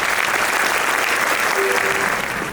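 Dense, steady applause from a convention audience at the LPS of USA 2025 Convention in Dallas, Texas, welcoming colleagues to the stage. The clapping stays loud and continuous throughout, with a faint crowd murmur beneath it.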